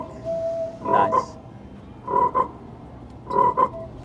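Three croaking frog calls ring out from a giant chocolate frog wand display, each a short doubled croak with clear pauses between, fairly close and standing alone without talk.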